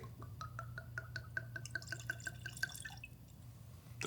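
Spirits poured into a glass with a run of rising liquid glugs that speed up and blur into a trickle, close and quiet over a low steady hum.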